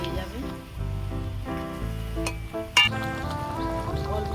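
Ground spices for a raw mango pickle sizzle steadily in a pan as they are stirred, a soft frying hiss that sits beneath louder background music throughout, with a brief clink near the end.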